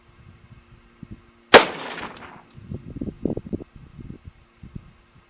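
A single loud, close rifle shot from a .300 Winchester Magnum fired off a bipod, a sharp crack with a brief decaying tail, then faint shuffling and handling noises.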